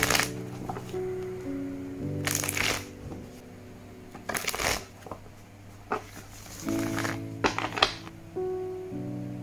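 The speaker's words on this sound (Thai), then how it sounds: "สับไพ่แล้วก็จะเริ่มดูกันเลยนะครับ" Druid Craft tarot cards being shuffled, bursts of crisp riffling and flicking in several rounds with pauses between, close up, over a soft sustained musical background.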